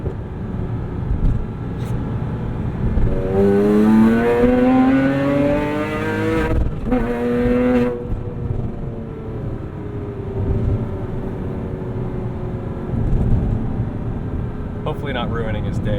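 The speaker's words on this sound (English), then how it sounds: "showing him what the IPE exhaust sounds like" A 2006 Porsche Cayman S with a full IPE exhaust accelerates hard, the engine note climbing steeply in pitch for several seconds, dropping at a shift, then settling into a steady cruising drone, heard from inside the car, with brief talking.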